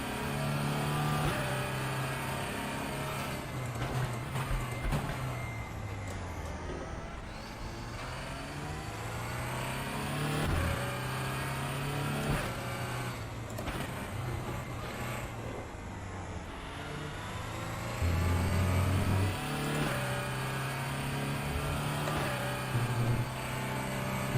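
Audi R18 race car at Sepang in RaceRoom Racing Experience, engine droning steadily with rising and falling pitch as it shifts through gears during a Le Mans Series race.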